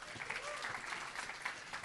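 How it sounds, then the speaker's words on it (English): Brief round of applause from an audience at a Muslim Tech Fest 2024 big tech panel, steady clapping of moderate loudness sustained for under two seconds. "Give her a round of applause."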